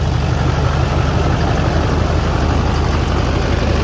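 A rebuilt LBZ Duramax diesel engine from a frame-damaged truck idles steadily up close, a continuous low, even rumble with no talk over it.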